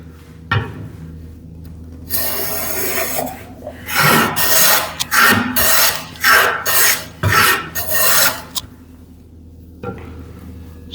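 A hand plane shaves a wooden board in a string of rasping strokes, about seven close, loud scraping passes with short pauses between them, heard without speech.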